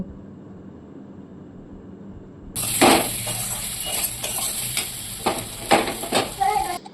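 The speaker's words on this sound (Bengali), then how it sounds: "টমেটো দিয়ে আরেকটু ভালো করে কষিয়ে নেব" Chopped tomato drops into a pan of cooked spices after a few quiet seconds, starting a loud sizzle with irregular scraping stirs and clatters that carry on to the end.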